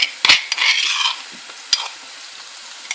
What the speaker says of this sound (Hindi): इसको मैं थोड़ा सा फ्राई करती हूँ